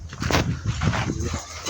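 A puppy gives short yips and whimpering barks up close in a brief burst, fairly loud and alone without talk.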